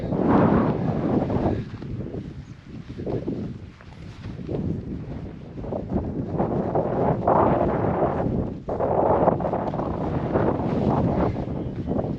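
Strong northwesterly wind at a wild camp beside Llyn y Fan Fawr in the Brecon Beacons, roaring steadily and buffeting the microphone in loud continuous gusts with no talking.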